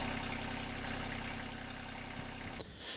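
A Kioti tractor engine idles steadily and close by with a deep, even rumble, then cuts off near the end, leaving a brief quieter rustle.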